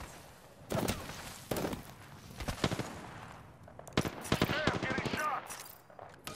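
Rapid bursts of automatic gunfire strike the player in the Apex Legends game, with sharp, close volleys repeating in clusters and ricochet-like whines between them, while a voice speaks faintly beneath.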